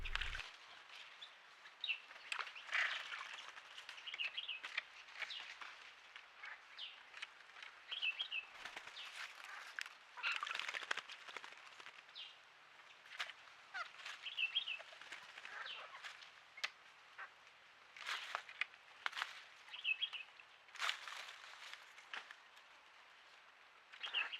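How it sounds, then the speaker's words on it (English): A hair-crested drongo calls repeatedly at Rocky Pool, faint metallic chirps and whistles scattered over a continuous hiss of background birdsong, fairly distant with no talking. "And a hair-crested drongo at last."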